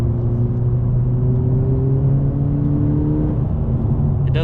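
A 2020 Honda Civic Si climbs a mountain road in third gear, its engine holding a steady drone with slowly rising pitch, heard from inside the cabin as a continuous close hum.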